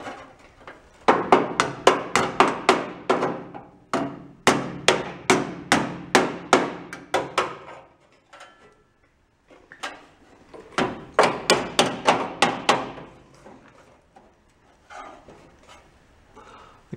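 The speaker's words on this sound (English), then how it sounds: "Hit it with a hammer?" Hammer blows on a metal repair panel for a 1965 Ford Econoline pickup, quick bursts of sharp, loud close strikes separated by short pauses.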